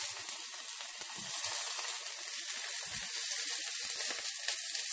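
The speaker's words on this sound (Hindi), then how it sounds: "अच्छा गरम हो गया, अब इसमें लहसुन और प्याज" Steady, crackling sizzle of garlic and onion frying in hot oil, close and continuous, with a few soft stirring knocks.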